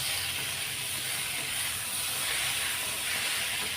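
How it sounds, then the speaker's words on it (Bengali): Water poured into a hot pan of soybean and potato curry sends up a loud, continuous hiss and sizzle that holds steady the whole time, close and with no voices. "এখন আমি জল দিয়ে দেবো"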